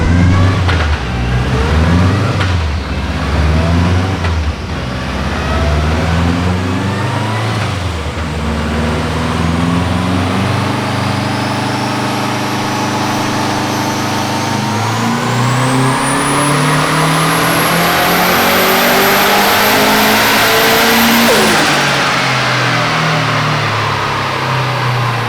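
A tuned car strains on a dynamometer, its engine note climbing steadily through a long full-throttle sweep to a high, screaming peak before abruptly cutting off, loud and close throughout.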